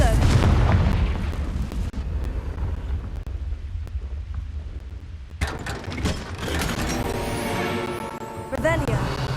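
Confringo blasting spell going off in the Hogwarts Legacy video game: loud booming blasts and rumbling game effects that swell again partway through, with a voice heard over them.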